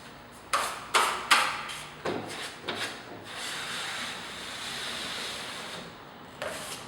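Drywall knife skimming joint compound over a taped joint, heard as several short scraping strokes in quick succession followed by a longer smooth swipe and one more stroke at the end.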